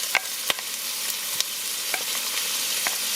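Chopped vegetables, including onion and celery, saute in a soup pot with a soft continuous sizzle and a few sharp clicks of a spoon stirring against the pot, with no voices.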